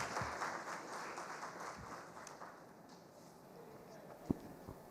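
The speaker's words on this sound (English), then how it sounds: "Let's have a proper welcome and a round of applause for the panel on the stage." Faint applause from a conference audience welcoming a panel onto the stage at a D2C marketing event, a soft distant patter of clapping that fades, with a sharp knock near the end.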